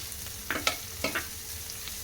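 Grated fresh coconut and green gram fry in a pan with a little turmeric, a faint low sizzle broken by a few short scraping stirs.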